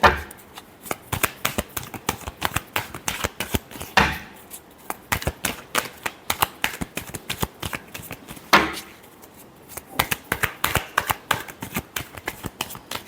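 Tarot cards are shuffled by hand in rapid bursts of crisp riffling clicks, loud and close, with short pauses between rounds over about thirteen seconds.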